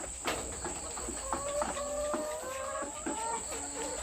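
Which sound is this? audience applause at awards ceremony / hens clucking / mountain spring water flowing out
hens clucking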